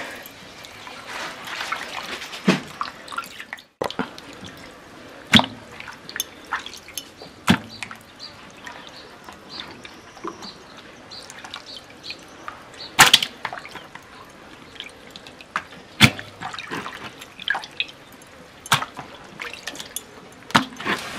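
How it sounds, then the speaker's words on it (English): Water poured over fresh fish being washed for a village-style soup: irregular drips, splashes and trickles with sharp clicks of handling, moderately close, with no talking during the sound. "So now I'm pouring water on my fresh fish so that I'll wash it"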